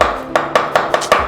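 A knife chops an onion on a cutting board in a home kitchen, with about seven crisp, close strikes in a quick, even rhythm.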